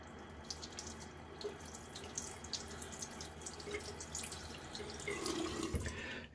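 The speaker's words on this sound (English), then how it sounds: "This handle is getting a little slippery, so I'm going to rinse it off." A tap runs steadily into a sink while a Gillette Sheraton safety razor handle is rinsed under the stream, making a soft continuous splash with faint drips and shifting water sounds.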